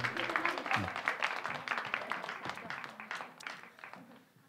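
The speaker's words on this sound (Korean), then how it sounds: "감사합니다. 박수." Congregation applause during a Korean church sermon, a fairly quiet, dense patter of many hands clapping at once, with some voices mixed in and the clapping thinning slightly toward the end.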